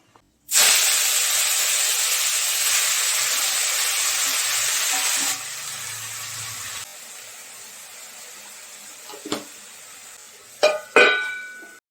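Leafy greens sizzle and hiss loudly as they fry in a hot pan, a steady dense crackle that fades partway through, followed by a few clanks and scrapes of stirring near the end.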